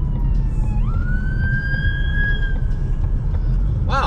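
An ambulance siren wails loudly as it passes on the road, its rising tone sustained over steady traffic rumble, with a short warbling burst at the end.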